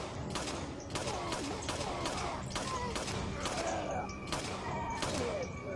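Gunfire in Resident Evil 4: a run of about eight sharp, loud shots at irregular intervals, with thuds and groaning game sounds between them.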